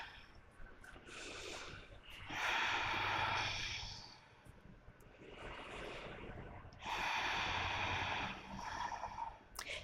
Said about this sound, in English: Slow, steady breath.